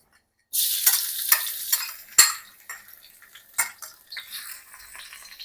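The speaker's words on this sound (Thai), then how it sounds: "เจียวให้พอได้กลิ่นหอมครับ" Shallots frying in a pan, a bright sizzle that starts suddenly, broken by metallic scrapes and clinks of a utensil against the pan, close and alone.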